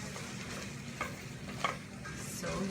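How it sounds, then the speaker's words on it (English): Raw cauliflower florets get stirred in a hot pan, a soft sizzling hiss with a few scraping clacks of the spoon against the pan, quiet and close, with no talking. "Give that a little stir."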